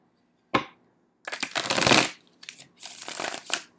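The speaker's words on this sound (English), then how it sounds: "So I'm just going to shuffle and we'll get right into the reading for Leo." A deck of tarot cards being shuffled by hand in a quiet room: a short riffle, then a longer burst of card flutter and a few quick follow-up shuffles, close and fairly crisp with no talking.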